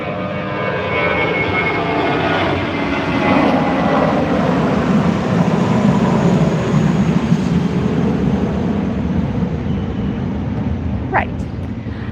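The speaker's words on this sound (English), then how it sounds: "Wait for the airplane to pass." An airplane passes overhead as a loud, broad, steady engine roar that fills the whole stretch without a break, with a brief sharper tone near the end.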